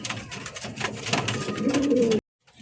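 A black Lotan pigeon coos in a low, wavering murmur for about two seconds, fairly close, then cuts off to silence.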